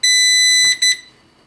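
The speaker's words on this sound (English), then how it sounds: "We plug in the unit, you hear a beep, another beep," A CyberPower CST1500S UPS beeps as it is plugged in: a loud steady electronic tone for about two-thirds of a second, then a short second beep, with a faint mechanical click underneath.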